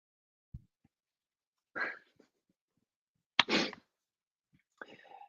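A sharp nearby sneeze preceded by a quick intake of breath, with a couple of faint sniffs and small noises around it in an otherwise quiet room.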